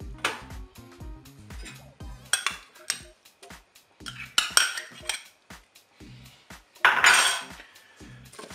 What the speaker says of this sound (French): bien sûr on mélange les ingrédients.